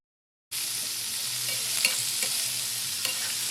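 Agukoy fish sautés with aromatics in a hot pan, giving a steady close sizzle and crackle with light stirring clicks, after a short silent start; no voices.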